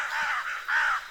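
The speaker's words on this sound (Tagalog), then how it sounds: "Nakakilabot naman yung tunog ng uwak na yan." A crow caws twice from nearby in a cemetery setting, two harsh drawn-out calls in quick succession, loud and clear with no speech.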